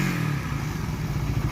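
A Raider 150 Fi motorcycle engine idling close by, a steady even putter with no misfires, a clutch lining suspected of slipping, running alone without talk.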